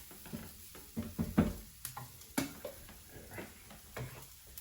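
Onions fry in a pan, sizzling softly with scattered crackles and several sharp scraping stirs and clinks of a utensil against the pan, fairly quiet overall.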